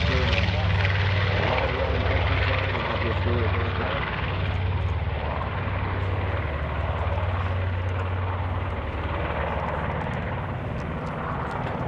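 A World War II B-25 bomber taking off at an air show, its piston engines giving a loud, steady, droning roar throughout, with a voice talking over the engine noise.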